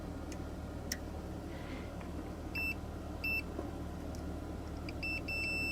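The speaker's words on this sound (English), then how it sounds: "it beeps to show that the winding's intact" Short electronic multimeter continuity beeps sound a few times in quick bursts over a faint background hum, clean and high-pitched, testing a GM truck AC compressor clutch coil winding.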